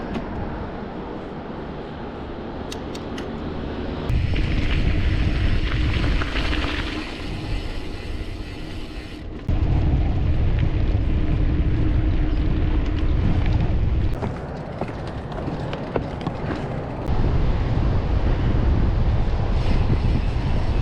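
Wind gusts roar across a microphone at a beach in Deep Creek National Park, loud and buffeting, rising and falling in strong surges with no voices.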